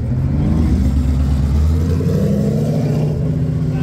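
A car engine revs hard and close at night on a street cruise, with a loud, steady low rumble that swells and holds for the full few seconds, no talk over it.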